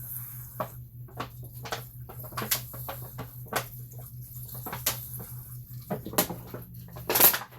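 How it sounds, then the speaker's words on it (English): Water is poured onto basil in a pop bottle planter to wet the wick, making a run of soft splashes and trickles, close and intermittent, with a louder gush near the end. "first I'm gonna water it down."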